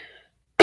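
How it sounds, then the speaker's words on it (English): A single sharp cough bursts out near the end, close and loud, after a faint fading sound and a brief silence. "little cough"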